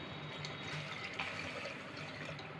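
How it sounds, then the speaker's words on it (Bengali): Lukewarm water poured into a pan of cooking green jackfruit curry gives a steady, moderately loud splashing rush that runs unbroken for a few seconds, with no talk over it. "এবার আমি এতে জল দেবো আমি কিন্তু এখানে হালকা গরম জল দিচ্ছি"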